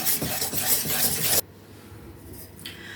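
Homemade sour cream is mixed into a cake batter in a bowl, a close, dense scraping and rubbing of a utensil for over a second that then stops, leaving a quiet room.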